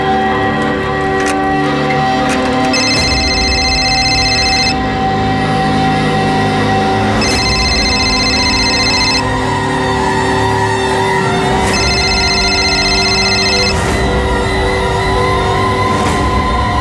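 A telephone rings unanswered, repeating its tone in about three evenly spaced rings of roughly two seconds each, over a loud, dense background soundtrack.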